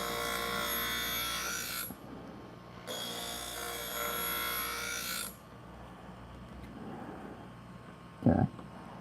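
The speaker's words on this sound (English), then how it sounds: "Take a few light passes." A knife sharpened with a few light passes, giving two long, steady rasping strokes in succession, close and fairly loud, followed by a quieter pause and a brief knock near the end, with no talk.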